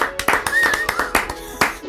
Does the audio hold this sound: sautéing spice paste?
no